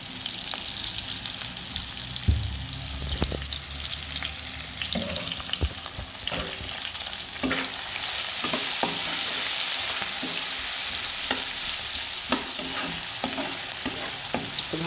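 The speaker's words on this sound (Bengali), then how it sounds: "ভালো করে ভেজে নিব" Onion, green chili and salt fry in a pan with a continuous close, hissing sizzle. Occasional scrapes of stirring break through at irregular intervals, with no voices.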